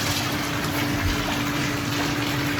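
Jets of a repaired heart-shaped jetted tub switched on, a loud, steady pump hum with continuous gushing water, unbroken and close.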